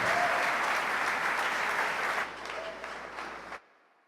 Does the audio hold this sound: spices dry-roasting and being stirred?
no